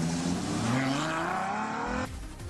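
A V12 sports car accelerates hard, its engine note climbing loud and steady in pitch. Near the end the sound drops abruptly and then resumes rising.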